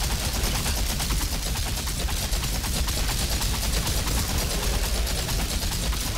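Continuous dense gunfire from the looter-shooter video game Outriders, with the Pyro class fighting in the A39 City of Nomads stage; rapid overlapping shots and impacts run steadily and loudly throughout without a break.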